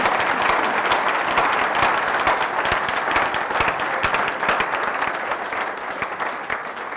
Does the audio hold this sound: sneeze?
no